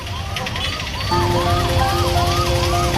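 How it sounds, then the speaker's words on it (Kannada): An ambulance siren on a road under construction wails in repeated rising and falling sweeps, loud and close, growing stronger midway with a steady tone joining in over traffic noise. "ಆಂಬ್ಯುಲೆನ್ಸ್"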